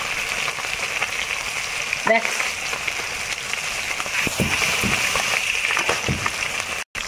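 Fish pulled fresh from a pond frying hard in hot oil with a steady, close sizzle throughout, a brief voice speaking once over the crackle.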